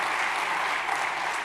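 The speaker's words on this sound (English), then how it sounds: "Please clap for her." Audience applause at a university lecture event honouring an essay competition winner, steady and sustained clapping from a large crowd, fairly close and continuous throughout.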